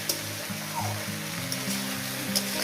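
Small river fish frying in oil with Malabar spinach and no added water, a close, even sizzle with a few soft stirring knocks, no voices.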